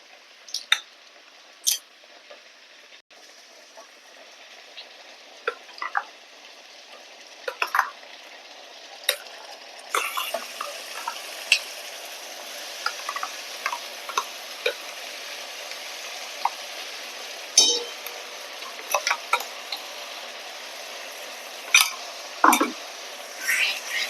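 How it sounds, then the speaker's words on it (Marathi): Raw onion paste sautés in a pan for the Bihari dish bhagosa, a steady soft sizzle close by, broken by frequent sharp scrapes and clicks of a spoon stirring it throughout. "आणि आता हा छान मी परतवणार आहे"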